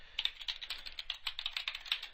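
Quick, steady keystrokes on a computer keyboard, a soft continuous run of light clicks heard alone at low volume.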